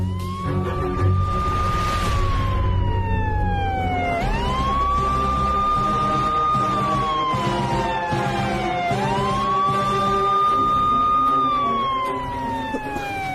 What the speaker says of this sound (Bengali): পুলিশের গাড়ির স্যারেন না?